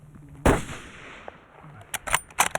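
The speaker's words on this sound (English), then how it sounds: "When we got a good, clean broadside shot at about 200 to 225 yards," A hunting rifle fires one sharp, loud crack at a moose about 200 yards off, broadside, in remote British Columbia wilderness. A short ringing tail follows, then a few quieter clicks and knocks from handling.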